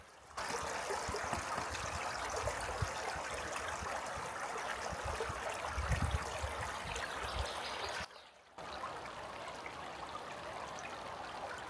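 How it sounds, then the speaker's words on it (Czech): A small forest stream flows steadily close by, a continuous bright rush and trickle of water with a brief dip to near silence around eight seconds before the flow resumes. "Takže teď budou záběry z krásného potůčku."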